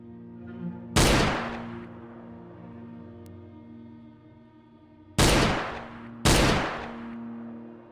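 Gunshots ring out in the indie horror video game Dead Format: three loud, sharp blasts, one alone and then a close pair several seconds later, each trailing off in a long echoing decay over a low steady hum.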